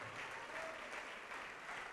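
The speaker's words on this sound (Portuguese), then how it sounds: "Vamos aplaudir ao Senhor" A church congregation applauds the Lord, steady dense clapping throughout at moderate, somewhat distant level.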